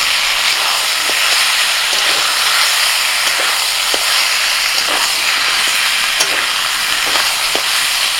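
Ginger, garlic and green chili paste hits hot oil with marinated chicken and onions, a loud, continuous close-up sizzle and hiss with faint stirring scrapes at intervals.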